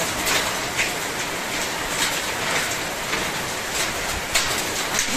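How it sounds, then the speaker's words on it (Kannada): Hail pounding down in a steady, dense patter with scattered sharper impacts, loud and close, no voices. "ಆಲಿಕಲ್ಲು ಆಲಿಕಲ್ಲು"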